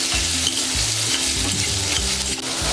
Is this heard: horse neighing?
no